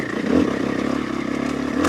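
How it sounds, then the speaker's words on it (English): A motorcycle rumbles steadily while being ridden, engine note continuous and close, captured on a DJI Action 5 Pro action camera. "You can hear me, you can hear the bike"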